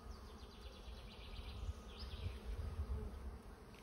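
Honeybees buzz steadily at an open hive holding a healthy month-old swarm, a dense, continuous hum that is close but quiet, with no voices.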